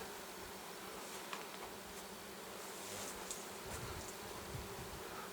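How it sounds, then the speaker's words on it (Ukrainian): Bees hum steadily around small-leaved linden trees coming into bloom, a dense, even drone like a busy apiary, with faint scattered buzzes of single insects passing nearby. "Гул як на пасіці."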